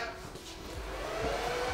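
Teams ISDN gateway unit at startup, its fans roaring with a loud steady broadband whoosh throughout.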